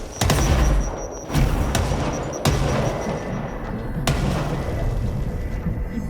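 Rapid gunfire and booming grenade blasts from enemies in the video game Control, with sharp loud reports striking repeatedly over a dense rumbling backdrop of battle.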